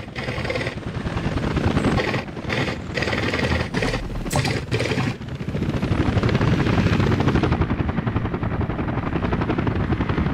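Helicopters flying in the city-building game Workers & Resources: Soviet Republic, a steady, loud rotor chop and mechanical whir that holds throughout, briefly broken by gaps before swelling back strongly.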